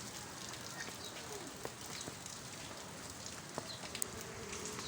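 Steady rain falls in a town, a soft, even patter with occasional small drops standing out, faint and continuous throughout.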